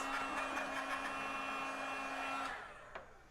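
A handheld heat dryer blows over freshly stamped ink on a dog-themed stamp card, a steady close whirring roar with a tonal whine that cuts off after about two and a half seconds.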